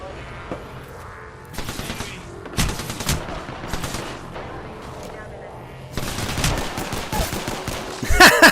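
Gunfire in a video game comes as several rapid bursts of automatic shots and single cracks, some distant and some close and loud, interspersed with talking.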